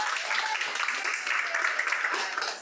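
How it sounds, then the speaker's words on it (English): Dense, steady applause from an audience at a real estate company's marketing presentation, filling the whole stretch at an even level with no break. "Please give her a round of applause"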